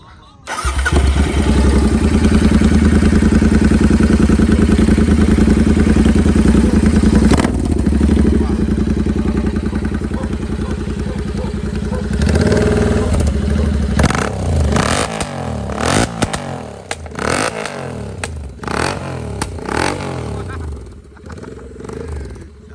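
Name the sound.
Royal Enfield GT 650 motorcycle with Thailand exhaust running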